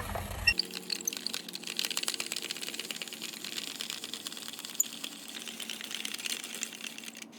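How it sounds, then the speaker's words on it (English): A hand-cranked spiralizer turning zucchini into noodles, a quiet steady rapid clicking and ratcheting close by, continuing evenly for several seconds. "you need a spiralizer or another device similar to that. Really easy. Just put it in and crank it out."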